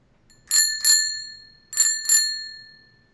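A bicycle bell rings in two pairs of bright dings, each ring fading out. The sound is clear and alone against silence.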